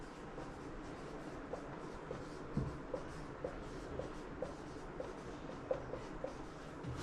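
Handwriting on paper during a maths lesson produces a quiet, steady scratch marked by small, regular ticks and one slightly louder knock. It is faint and close, with no voices.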